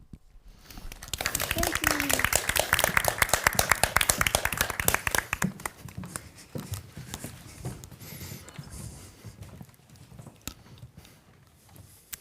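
Audience applause greets four speakers taking the stage at a design event, dense clapping building quickly then thinning into scattered claps over about twelve seconds.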